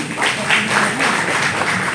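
Audience applause at a women's empowerment award ceremony, a steady, dense wash of clapping from a crowd that carries on without a break for about two seconds.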